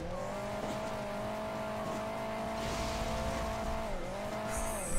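A car engine drones steadily in the video game Hill Climb Racing 2, a sustained motor tone that holds pitch then dips briefly near the end, with no talk over it.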